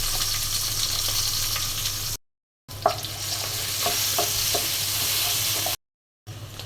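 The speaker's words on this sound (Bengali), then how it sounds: "পেঁয়াজটা হালকা ভেজে নিলাম" Chopped onions fry in hot oil with a constant crackling sizzle and a few light stirring taps. The sound cuts out briefly twice and carries no speech.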